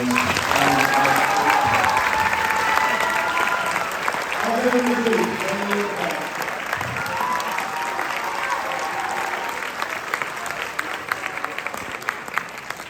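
A concert audience at a high school band spring concert applauds faculty members, thick sustained clapping mixed with cheers and scattered voices, strong at first and easing slightly toward the end.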